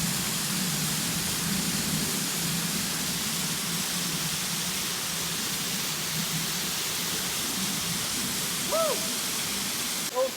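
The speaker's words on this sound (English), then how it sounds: "so it started to rain again" Rain falls steadily on a hike near Tangerine Falls, a continuous broadband hiss with no break, with a brief faint squeak or call near the end.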